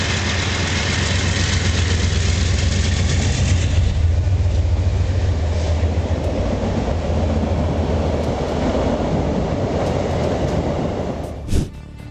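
A train rumbles past at close range, a loud steady roar of wheels and engine on the rails that holds for the whole stretch, with heavy low rumble early on and a brief sharp clatter near the end.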